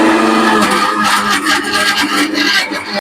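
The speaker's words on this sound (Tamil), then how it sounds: "புதினா அரைக்க போறேன்." A mixer grinder runs loud and steady, grinding fresh mint, coriander and tomato for biryani, a dense whirring roar with gritty rattling that carries on without a break, then cuts off abruptly at the end.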